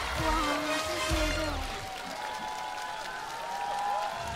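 Audience applause on a TV singing competition stage, a broad wash of clapping that carries on steadily, with sustained tones and a few vocal sounds layered over it early on.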